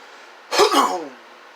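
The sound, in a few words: throat clearing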